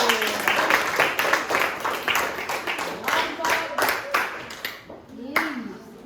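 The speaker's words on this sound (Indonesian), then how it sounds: "Buat tepuk tangan dulu." Students in a classroom applaud a group during a lesson on food additives, a close, uneven patter of handclaps that thins out near the end while voices murmur underneath.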